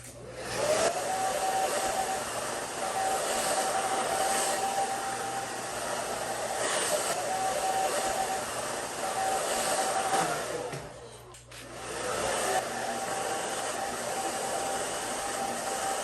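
Hair dryer blowing steadily while drying freshly colored hair, a loud continuous whoosh with a brief dip near the end before it resumes.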